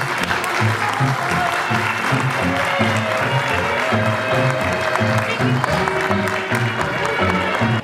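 Guests at a civil wedding ceremony officiated by a mayor applaud steadily as the couple is called to the marriage table, sustained loud clapping over background music and murmuring voices.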